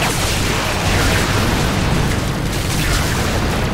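Gunfire and explosions in the Warframe video game on Mars, a loud continuous roar of blasts and booming bursts that fills the whole stretch without pause.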